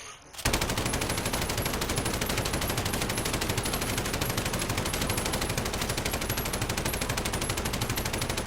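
Sustained automatic fire from a PKM machine gun in Modern Warfare, a dense, unbroken stream of rapid shots after a brief quiet start, loud and close throughout.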